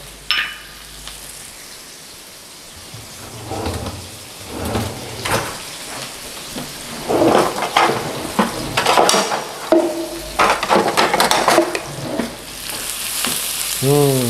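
Onions and garlic sautéing in a pan for beef bourguignon, a steady close sizzle broken by repeated scraping stirs and clinks of a utensil against the pan, growing busier toward the end with no talk.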